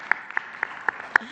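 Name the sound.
applause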